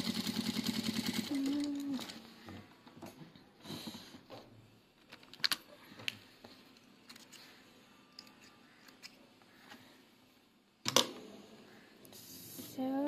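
A home sewing machine stitches a passport wallet lining with a quarter-inch seam allowance, giving a quick, rapid run of stitching at the start and another burst near the end, with quiet handling sounds between.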